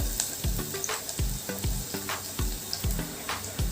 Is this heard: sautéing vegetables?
yes